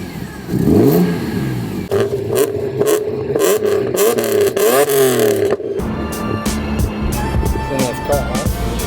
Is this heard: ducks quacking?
no